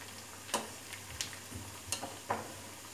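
Cabbage masala vadai deep-frying in oil until golden brown, a faint steady sizzle broken by a few soft, sparse taps of a utensil turning them.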